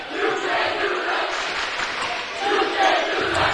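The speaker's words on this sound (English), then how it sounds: "As you can hear the DV crowd loud and raucous." Loud, raucous home crowd at a Dakota Valley Panthers girls' basketball region semifinal against Vermillion, a dense continuous roar of cheering and yelling that swells near the end, with an announcer talking over it.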